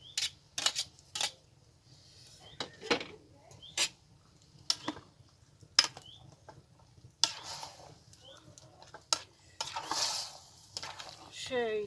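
Garlic fries in a pan alongside tomato for a sauce, with a faint low sizzle beneath sharp, irregular spoon clicks and scrapes, ending in a denser burst of stirring; no voices.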